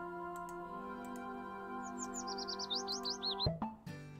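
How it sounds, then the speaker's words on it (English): Bird chirps and tweets inside the Carol Reed mystery game Dead Drop, a run of quick rising high chirps over a steady tonal game ambience, ending in a brief soft thump. "The birds are chirping."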